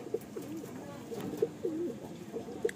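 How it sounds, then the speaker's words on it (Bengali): Madrasi pigeon cooing in a series of soft, rolling coos repeated steadily at close range, with faint background noise. "অসাধারণ একটা কোয়ালিটির পায়রা"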